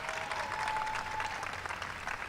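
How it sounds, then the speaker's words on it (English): A gathered audience at an evening stargazing event claps steadily, a soft even wash of applause heard from some distance, with no voices over it. "stand up, Phoebe, so everybody can give you a big round of applause"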